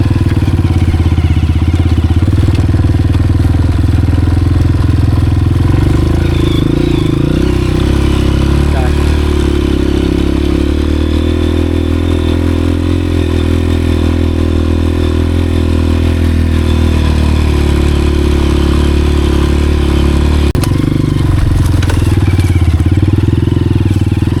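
A Honda CRF 230F four-stroke dirt bike on rough mountain trails, its engine thumping loud and close throughout, with gear changes, revs rising and falling, and a rider talking over it.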